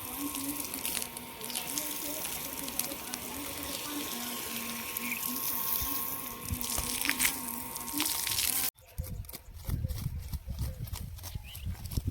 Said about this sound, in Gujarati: હવે અહીં છાંટ્યું ને ગાડી સુકાઈ જાય